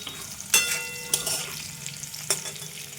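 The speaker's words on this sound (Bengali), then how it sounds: "আলুটা ভেজে নিলাম একটু লাল করে" Potatoes, salted and dusted with turmeric, fry in a pan, giving a steady close sizzle with a few sharp stirring scrapes and clinks.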